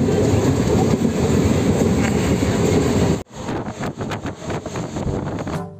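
Train running on rails, a loud rushing rumble with rhythmic clatter heard close from inside the moving train, dropping abruptly to a quieter, more muffled rattle partway through.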